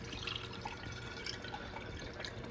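Rice wash water pours through a funnel in a faint, steady trickle with soft drips and gurgles, close and quiet with no talking.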